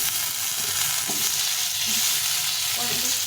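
Pointed gourd tossed into a pan of already-fried potatoes for a curry sizzles loudly in hot oil, a dense, steady hiss that never lets up, with faint stirring clinks and no voices.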